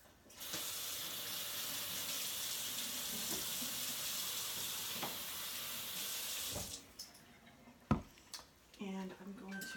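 Water runs from a tap in a steady hiss for several seconds as it is added to cracked eggs in a kitchen bowl, then stops, followed by clinks and handling noises.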